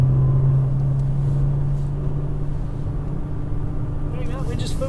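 Nissan GT-R on a racetrack, a steady low engine drone and rumble from inside the car, heard under a voice talking throughout.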